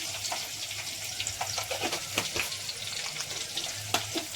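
Mustard seeds and curry leaves splutter in hot oil, giving close, irregular pops and crackles over a continuous sizzle.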